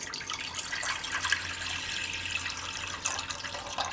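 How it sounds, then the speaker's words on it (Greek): Water pours steadily into a cooking pot, a continuous splashing hiss from start to finish, close and moderately loud, with no talk. "Θα βάλουμε στην κατσαρόλα μας νερό"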